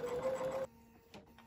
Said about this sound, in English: Stitch all the way around.